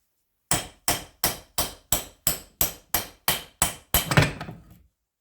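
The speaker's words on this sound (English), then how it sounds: "With all traces of the split pin removed, it should now be possible to hammer this out" Ten sharp metallic hammer strikes in a steady, even rhythm driving a pin out of a Classic Mini rear radius arm held in a vise, then a final blow with a longer ringing rattle; close and clear, no voices.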